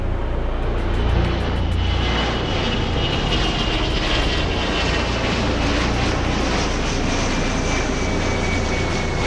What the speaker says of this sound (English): Last plane out, I'm turning back now.